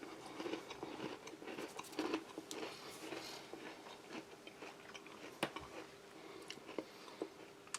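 Close, crisp bites and chewing of a thick, chunky chocolate chip oat cookie from a US MRE ration, with irregular crunches and mouth sounds at a quiet level.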